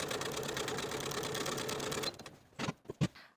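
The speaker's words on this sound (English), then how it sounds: "we're going to sew basting stitches along the sleeve cap, from one single notch to the double notch" Sewing machine running steadily for about two seconds while stitching long basting stitches along a suit jacket sleeve cap, then stopping, followed by a few short, sharp handling clicks and knocks.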